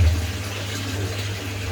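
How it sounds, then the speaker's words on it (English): Water pours from a fish tank into the cylindrical radial flow filter chamber of an aquaponic farm, a dense continuous rushing with a low steady rumble, close and even throughout with no talking. "this water will leave from the fish tank and it will come into the cylindrical chamber"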